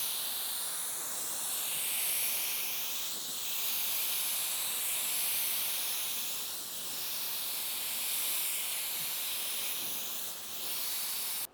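Steady broad hiss of a spray gun laying primer onto a car panel, swelling and easing in long passes of a few seconds each, fairly quiet and continuous with no talk.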